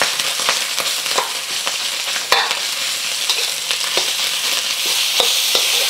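Ground pork sizzling in a hot pan as it is broken up, continuous loud frying hiss punctuated by sharp scrapes and taps of a utensil against the pan, close and without talk.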